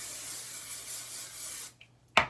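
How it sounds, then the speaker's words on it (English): A steady hiss of dry texture aerosol spray sprayed onto hair from underneath runs close by for over a second and a half, then stops, followed by a brief rustle and one short final burst. "I like to flip my hair upside down, spray from underneath"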